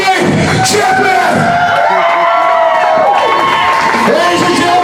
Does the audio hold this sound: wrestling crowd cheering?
yes